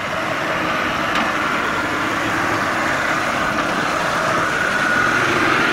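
A 4x4 engine roars steadily under sustained throttle while crawling over wombat holes along a powerline track near Lithgow, a loud, continuous rumble without pauses.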